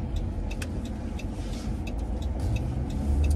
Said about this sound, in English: What is this car doing?